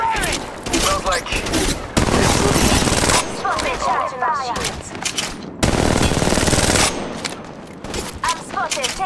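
Dense bursts of automatic gunfire from the mobile battle royale Apex Legends Mobile, loud and close, with rapid repeated shots in several long volleys and brief pauses between them.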